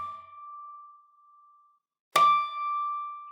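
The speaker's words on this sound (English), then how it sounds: "touching the string lightly with my index finger" Two bell-like harmonics ring from an acoustic guitar string touched lightly and plucked, each a pure, clear tone; the first fades out slowly, the second begins with a sharp pluck attack and sustains.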